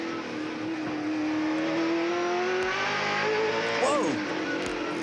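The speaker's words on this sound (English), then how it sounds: "Hear the old brakes and the gearbox going down through the gears." A 1997 Australian Touring Car Championship racer at Calder Park brakes hard and drops down through the gears. The engine note falls with revving blips between shifts, loud and steady throughout, with no voices.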